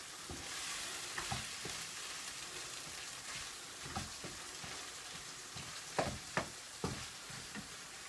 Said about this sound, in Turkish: Şimdi salçayla birlikte tekrar yine kavuracağım